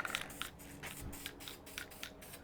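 Short hissing spray-can bursts repeat in quick succession while painting a 1.9L ALH engine, several brief spurts close by, fairly quiet, with no talking.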